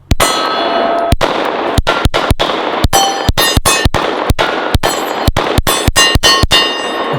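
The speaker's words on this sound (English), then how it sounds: "And what would be better to shoot than a Glock 17 like this?" Glock 17 pistol shots ringing off steel targets, a rapid string of sharp cracks each followed by a bright metallic clang, steady and loud throughout.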